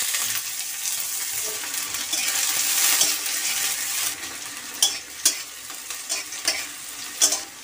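A small chopped onion sizzles steadily in hot oil in a pan. The frying is constant and close, and sharp stirring scrapes stand out toward the end.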